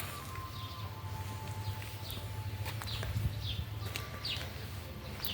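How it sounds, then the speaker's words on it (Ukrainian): Small birds chirp in short, scattered calls across an outdoor garden, fairly faint over a steady low background hum and light rustling. "Пташки співають."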